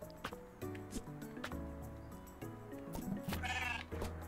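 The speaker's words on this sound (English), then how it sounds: "Oh, we got a nice little goat." Goats in the mountain-climbing video game Surmount bleating repeatedly in short, close, fairly clear calls against a quiet background.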